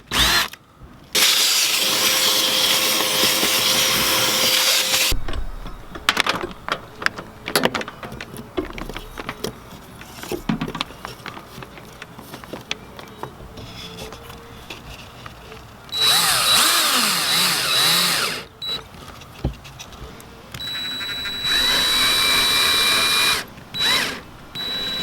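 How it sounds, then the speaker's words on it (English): A power drill bores a new hole through an RV panel near the fridge access, in several loud, sustained bursts of whining drilling broken by quieter handling noises and pauses. "I think my best option is going to be to drill a new hole."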